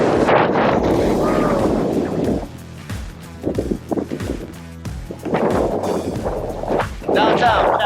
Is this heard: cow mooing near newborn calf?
no